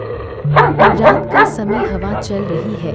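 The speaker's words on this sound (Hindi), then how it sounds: "कुत्ते भौंक रहे हैं" Dogs bark repeatedly at night outside a royal mansion on the edge of a deserted village, a string of quick yips and bow-wows that sit under a narrator's steady voice.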